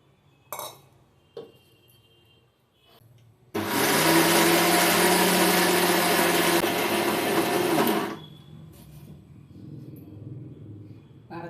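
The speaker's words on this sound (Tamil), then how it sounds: "இப்போ வந்து மிச்சம் இருக்கிறதையும் நம்ம அரைச்சி எடுத்துக்கலாம்." A kitchen mixer grinder grinds leftover rice into batter in one loud, dense whirring burst of about four and a half seconds, framed by a few clinks of the jar and lid before and quiet after.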